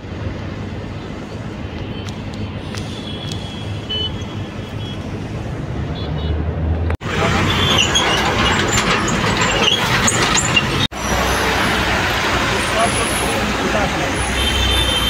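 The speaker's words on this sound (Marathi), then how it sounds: "फुल ट्रॅफिक." Heavy road traffic fills a street in Pen with a dense, continuous rumble of vehicles that grows louder midway. People talk over the noise throughout.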